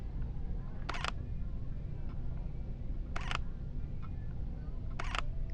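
Three separate mechanical shutter clicks from a Sony A9 camera, each a short crisp snap, spaced about two seconds apart over a low steady hiss.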